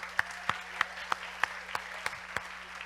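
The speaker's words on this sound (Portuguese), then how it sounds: "Uma salva de palmas" A single person claps slowly and evenly, about eight distinct claps in a regular rhythm, faint and close, with a low background hum.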